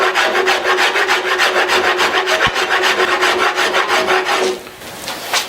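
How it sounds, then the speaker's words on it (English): A rasp files a wooden guitar neck in steady, close, loud back-and-forth strokes, the rhythmic rasping fading near the end. "And I'm using the rasp like"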